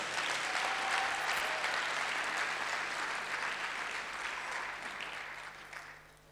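A church convention audience applauds the Lord in a sustained burst of clapping that fills the hall, steady and fairly loud before slowly tapering off at the end.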